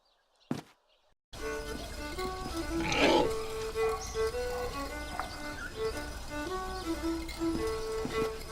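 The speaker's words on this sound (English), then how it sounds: "Those pigs are being fed enough." Pig grunts and snorts in the video game The Dark Eye: Chains of Satinav, over a steady droning background, with a brief sharp noise at the start and a louder burst of squealing grunts a few seconds in.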